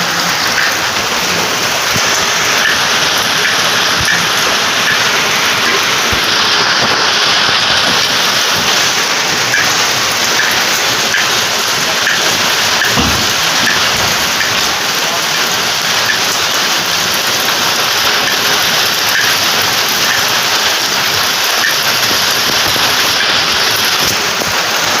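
Heavy monsoon rain pours down in a dense, continuous hiss and roar that stays loud and steady the whole time, with no voices.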